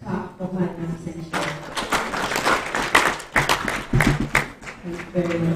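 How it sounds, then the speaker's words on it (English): Audience applause at a National Institute event for a former Minister for Women Affairs, a dense burst of clapping that swells mid-clip and fades, with a voice speaking over it at the start and end. "Please can we clap for her attention."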